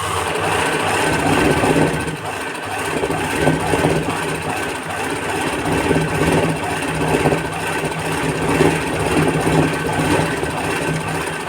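Sewing machine running steadily while stitching a picot edge on a saree, a loud continuous whirring hum with a fast mechanical chatter, close up and uninterrupted, no voices.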